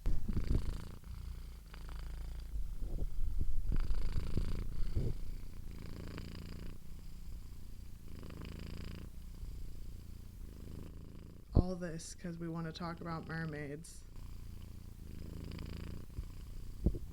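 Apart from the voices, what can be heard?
cat purring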